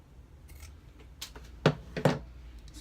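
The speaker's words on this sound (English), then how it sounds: "How about we take this piece, this orange piece, cut it." Scissors cut through a piece of orange fabric during a sewing project, giving a few close, crisp snips, with two strong cuts near the end over a quiet room.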